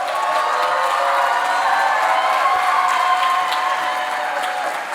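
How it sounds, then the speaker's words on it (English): A large audience at a school annual day stands and applauds, steady dense clapping with some cheering holding evenly throughout. "And round of applause for all of them"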